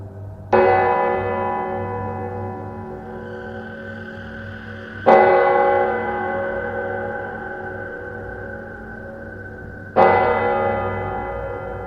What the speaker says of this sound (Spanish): comenzaron a sonar las campanadas de la iglesia, indicando que era la medianoche